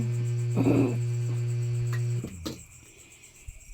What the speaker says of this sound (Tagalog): ang ingay ng kuliglig